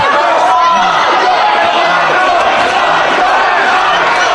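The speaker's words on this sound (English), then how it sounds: "Crowd getting behind McGuinness." A wrestling crowd cheers for Nigel McGuinness in a dense, constant roar of voices and shouts that stays loud and unbroken throughout.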